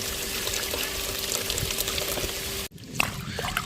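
Water is poured from a jug onto kanakambara plants, making a steady, close splashing trickle. It breaks off abruptly near the end, then resumes more faintly.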